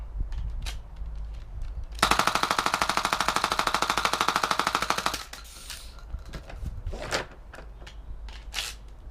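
A mini HPA Boomco MA5 toy blaster fires a rapid, steady burst of darts lasting about three seconds, with a sharp mechanical rattle, and quieter handling clicks follow.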